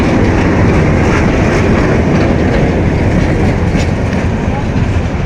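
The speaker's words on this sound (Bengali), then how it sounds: "ঢাকা কমলাপুর থেকে ছেড়ে আসা ট্রেনটি" A Jamalpur community train pulls into Joydebpur station in Bangladesh. Its steady, loud rumble of wheels and cars on the rails runs without a break, with faint clatter and no clear speech.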